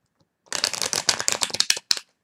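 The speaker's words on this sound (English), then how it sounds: "So let's lay the rest of the cards" Tarot cards being laid out in a quick run of close, crisp flicks and slaps, about a dozen in rapid succession over under two seconds, with a final separate snap and no voice.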